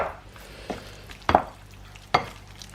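Butternut squash salad being tossed with dressing in a bowl: a few soft, scattered clanks and scrapes of utensils against the dish, close and quiet, with no voices.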